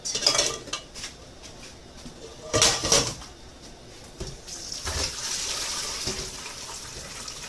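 Pasta with chicken and vegetables for a shelf-stable instant meal is rinsed under cold tap water in a kitchen, with running water, clattering dishes and metal utensil clinks, a louder burst midway, then steadier flowing water.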